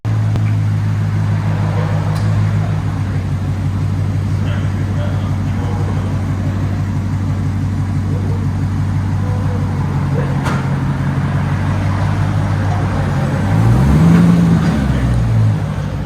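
Steady low engine drone of a muscle car with a 6-speed manual, heard from inside the cabin while driving, swelling briefly louder near the end.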